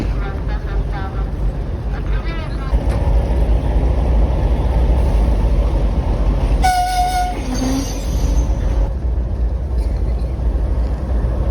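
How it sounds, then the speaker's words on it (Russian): Passenger train 306 at a high platform on track three of a Russian station, with loud steady rumble throughout, a brief tonal horn or whistle midway, and voices in the background. "На третьем пути с высокой платформы продолжается посадка на пассажирский поезд 306"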